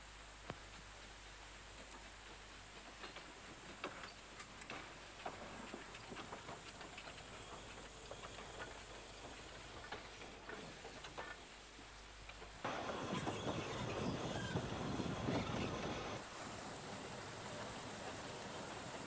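A train rumbles steadily along the rails with a broad hissing roar that swells louder near the end, no voices present.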